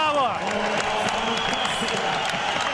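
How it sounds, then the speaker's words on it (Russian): A packed hall applauds after a 4-on-4 team combat bout, a dense, sustained roar of clapping and cheering, loud and close, with an excited commentator speaking over it. "Аплодирует стоя просто зал."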